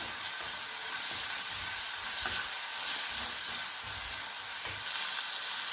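Dried shrimp, soaked, cleaned and with heads removed, stirred and mixed in a hot pan, giving a steady broad sizzle with soft scraping stir strokes throughout.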